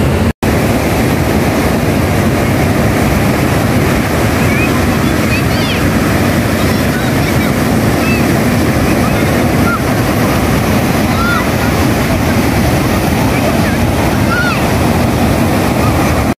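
Loud, continuous surf roars at Baler, Philippines, waves breaking and washing in where surfers ride, with heavy wind buffeting and a voice speaking faintly beneath.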